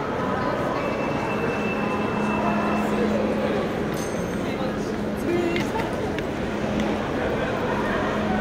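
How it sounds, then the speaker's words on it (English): A low rumbling train passes amid station hubbub in Paris, with a faint sustained whine, metallic clinks, and people talking in the background. "Trains."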